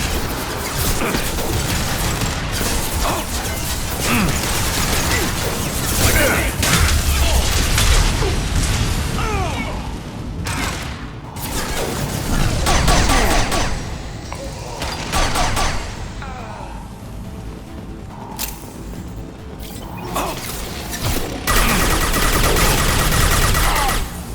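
Heavy ship-weapon gunfire in the Mass Effect 2 video game, dense booming volleys and mechanical clatter rolling continuously and loudly throughout, with occasional voice chatter underneath.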